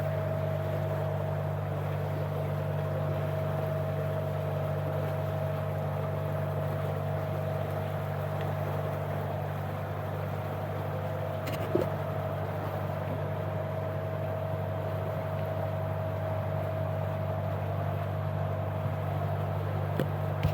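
A sailing boat's engine drones steadily out of a lagoon in the Gambier archipelago near Mangareva, a constant low hum with a faint knock or two and no speech.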